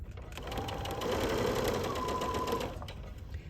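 A sewing machine stitches a leader fabric fed under the needle, running at a steady mechanical whir for a few seconds at moderate, close volume with no talking.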